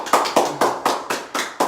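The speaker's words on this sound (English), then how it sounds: "Everybody, one more time, a round of applause for Patrick" Audience applause for a storyteller at a live performance event, heard as a series of sharp rhythmic bursts, about seven in under two seconds, rather than a sustained wash of clapping.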